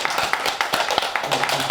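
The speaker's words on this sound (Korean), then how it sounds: "박수 한번 쳐주세요." An audience at a Buddhist dharma lecture gives a short burst of scattered hand clapping, close and moderately loud, with individual claps audible.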